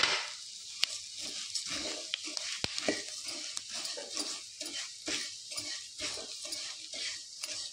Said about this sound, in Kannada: ಬಣಲೆ ದಿಯೆ ಬಣಲೆ ಕೊಂಚ 2 ಸ್ಪೂನ್ ದತ್ ನೆಯ್ ಪಾಡಿಯೆ ಇತ್ತೆ ನಮ್ಮ ಒಂದು ಬಜಿಲ್ ಲಾಯ್ಕ್ ಮಲ್ತು ಫ್ರೈ ಮನ್ಪುಗಂತೆ